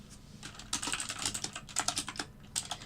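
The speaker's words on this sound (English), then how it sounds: "I intentionally bought this clicky keyboard on purpose." Fast typing on a clicky mechanical computer keyboard, close and crisp, with bursts of rapid keystrokes separated by short pauses and no talking.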